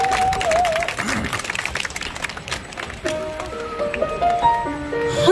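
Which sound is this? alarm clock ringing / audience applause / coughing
audience applause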